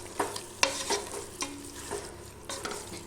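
Mutton is stirred with rock salt in a pan over a low sizzle, with a spatula scraping and tapping against the metal every half second or so, close and quiet with no voices.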